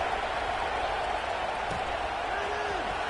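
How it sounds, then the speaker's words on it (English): A football stadium crowd at Nebraska versus FSU buzzes after a score, a dense, continuous roar of many voices heard from a distance under a commentator's voice. "this crowd is buzzing after that last score"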